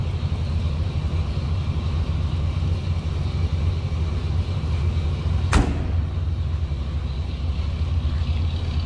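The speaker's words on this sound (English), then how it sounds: "nice sounding truck, a little deep throaty exhaust, no, a little rumble to it" A 1953 Ford F100 pickup street rod engine idles steadily with a deep, low exhaust rumble, interrupted once by a sharp click midway.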